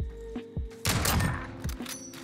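A sniper rifle fires in a Modern Warfare Search and Destroy match, one loud close boom with a sharp attack that rings out briefly, set among quieter game thumps and steady background noise.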